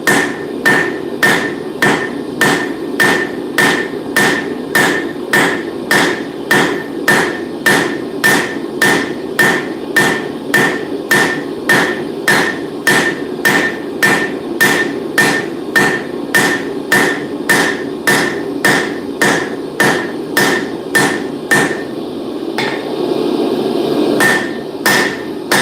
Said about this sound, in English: Just hammering, hammering, hammering.